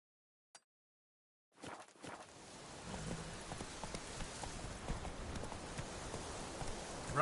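A horse gallops in the video game Witcher 3, its hooves beating in a fast, steady clip-clop that starts after a brief quiet tick and holds at a moderate level to the end.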